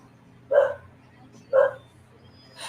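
A dog gives two separate short barks about a second apart, moderately loud and near, with a faint higher sound at the end.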